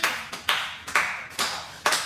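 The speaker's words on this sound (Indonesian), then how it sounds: "Beri tepuk tangan dulu buat Siti" A classroom of pupils claps for a classmate named Siti in a few loud, roughly unison bursts, each sharp attack trailing off before the next, close and clear with no talking.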